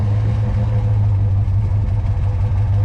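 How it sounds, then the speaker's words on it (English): A 1994 Dodge RAM 1500 Laramie SLT pickup engine idles with a deep, steady low burble, loud and close, continuous with no talking. "And over here you can hear the engine burble."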